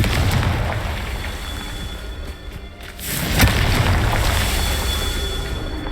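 Confringo fire spell explosions in Hogwarts Legacy sound as loud, booming blasts over a rumbling low background. A short lull comes near the middle, then a sharp fresh burst hits and the rumble continues.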